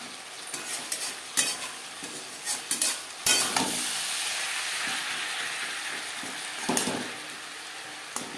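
Pabda fish curry with green tomato stirred in a pan over high to medium flame, a steady sizzle under repeated sharp clatters and scrapes of a spoon against the pan, close and without talk.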